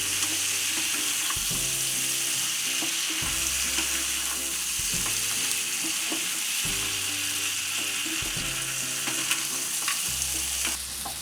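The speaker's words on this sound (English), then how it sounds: "After a while, add the fried crabs and mix them." Fried crabs being stirred into a crab curry in a pan, giving a steady close sizzle and frying hiss with repeated scraping stir strokes every second or so throughout.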